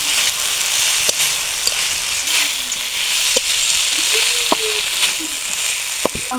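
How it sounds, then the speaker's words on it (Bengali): Potatoes frying in spiced oil for a fish curry, a constant close sizzling hiss with scattered sharp pops and light spatula scrapes. "এটা দিয়ে কিছুক্ষণ কষিয়ে ভেজে নেব।"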